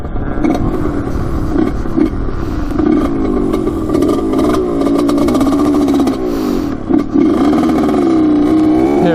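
A restored Honda CR80 two-stroke dirt bike runs at full throttle close by, its loud engine screaming and rising in pitch with quick revs, gear changes and brief dips.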